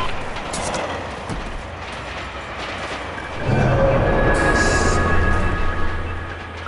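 Passenger train running in the video game Shadow Ops: Red Mercury, a continuous loud rumble and rattle of rolling cars that swells midway, with faint higher tones above and no speech.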